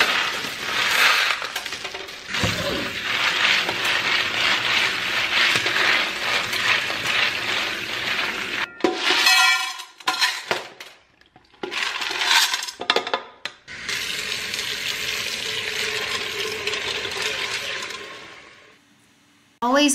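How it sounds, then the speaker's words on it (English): Dry beans are rinsed and poured into an Instant Pot pressure cooker: a long rush of running water, then rattling and clinking of beans and pot handling in uneven bursts, close by, with a brief voice near the end. "I'm gonna start by rinsing my beans and getting them into my Instant Pot"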